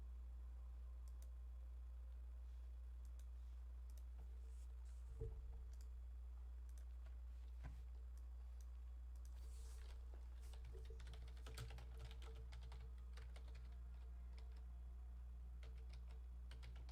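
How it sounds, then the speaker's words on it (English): A computer keyboard is typed on quietly and steadily with scattered sharp clicks, faint under a constant low hum, with no voices. "You hear intense typing on the other side."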